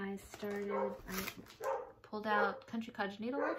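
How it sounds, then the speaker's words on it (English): A dog barks and yips intermittently in the background of a home while someone talks steadily over it about her needlework projects. "Sorry about the dog."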